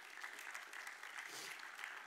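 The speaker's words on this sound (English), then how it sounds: "You're clapping for her right now, no doubt." Clapping from the congregation at a church service, a faint but dense patter of many hands that continues steadily and evenly, heard from a distance.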